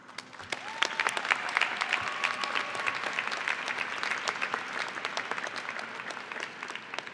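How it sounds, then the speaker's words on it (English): Graduation ceremony audience at the 2018 Heinz College diploma ceremony clapping for an honoree, a dense, even wash of many hands with sharp individual claps standing out, sustained for several seconds at moderate distance. "Applause."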